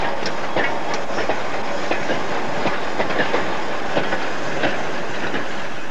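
A six-wheeled 3F steam locomotive pulls a freight train along a local line in Nottinghamshire's coalfields, with loud, close wagons rumbling and a steady clickety-clack of wheels over rail joints. A light hiss sits beneath, and no one speaks.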